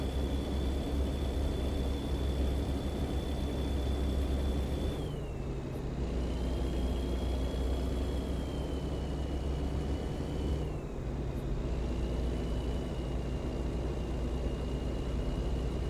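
A truck cruises down the road with a loud, steady engine drone and road rumble, its tone dipping and recovering twice as the driver shifts, with no talking over it.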